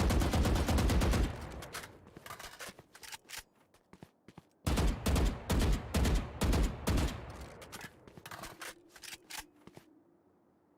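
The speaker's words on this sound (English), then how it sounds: "popping some bullets down the alley here." Gunfire in the tactical shooter Valorant during a live tournament match, with rapid bursts of rattling shots in two clusters separated by a quieter gap, then fading to a low hum.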